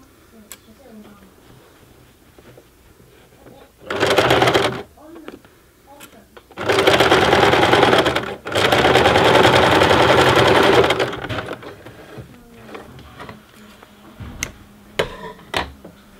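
A sewing machine stitches through a thick tote bag in two loud bursts, a short run and then a longer sustained one, with quieter ticks and handling noises between them.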